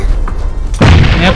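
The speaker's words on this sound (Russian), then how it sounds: "Еще граната." Grenade explosion in the battle royale shooter PUBG: a loud, deep boom bursts out near the end after a low rumbling lead-in, with a voice speaking just before it.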